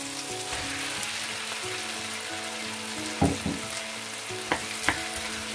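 Boiled potatoes frying with turmeric in a pan give a continuous close sizzle, broken near the end by a few sharp spatula knocks and scrapes against the metal.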